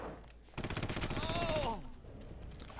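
Rapid automatic gunfire in Red Faction Remastered, a fast rattling burst of about a second and a half that cuts in abruptly, loud and close, with a faint voice around it.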